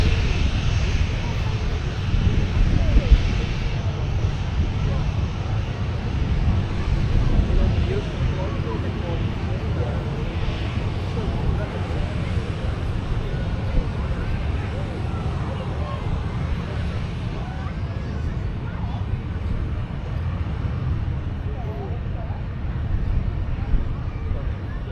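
A Ryanair jet airliner operated by Malta Air, bound for Madrid, takes off at Manchester Airport with a continuous low, rumbling engine roar heard from a distance, mixed with some wind and a voice talking over it.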